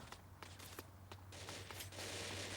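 An MP5 submachine gun fires in the video game Bullet Angel in quick bursts of sharp, rapid shots at low volume, building into a denser, continuous rattle toward the end.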